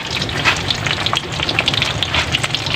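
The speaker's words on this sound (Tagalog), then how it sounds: "Tapos magprito tayo dito." Steady crackling sizzle of food frying in a hot pan, continuous and close, with dense popping spatters throughout.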